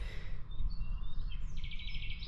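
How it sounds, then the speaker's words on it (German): Birds chirp and twitter faintly in the early morning around a treehouse in the woods, with a few thin calls over a low background rumble. "ich habe sehr genossen hier mit den Vögeln, wie sie zwitschern, aufwachen"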